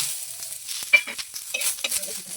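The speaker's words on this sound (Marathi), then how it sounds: "इथे आपला कांदा भाजतोय ना" Onion fries softly in a little oil in a pan, sizzling and crackling, with a few stirring scrapes and clinks; fairly quiet and close, no voices.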